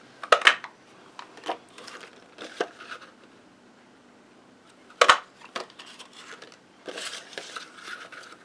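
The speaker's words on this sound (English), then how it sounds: "bring in this Darling Label punch" A Stampin' Up Darling Label punch cuts paper with two loud, sharp snaps, one near the start and one midway. Quieter rustling and tapping of paper being handled fills the gaps.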